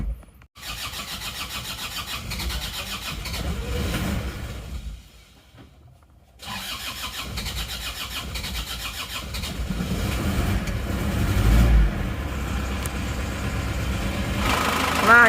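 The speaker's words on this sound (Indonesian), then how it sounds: "kita starter. Masih awal start sulit karena solar masih kosong." An Isuzu Panther diesel engine with an empty fuel line is cranked on the starter, struggles and pauses, then cranks again and catches into a loud, rough running idle, close by.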